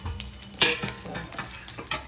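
Fish-frying oil sizzles with quick stirring strokes in a home kitchen, a steady close crackle with a few louder scrapes of the spoon and no talking.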